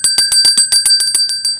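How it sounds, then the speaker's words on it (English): A bright notification bell dings rapidly in a steady, evenly spaced series of about a dozen clear metallic rings, loud and alone with no talk. "the notification bell to never miss out on another story of Mary."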